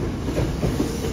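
An early-model Kintetsu train car rolls through Yamato-Saidaiji station, loud and close, with a continuous rumble and faint wheel clatter on the rails.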